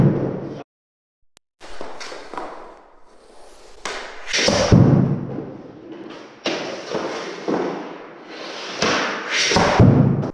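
Hockey puck wrist shots: a series of thuds and scraping stick-on-puck swishes, near and fairly loud, recurring every couple of seconds with rink or room echo between them.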